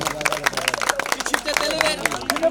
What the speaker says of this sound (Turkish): şöyle güzel bir alkış yapalım.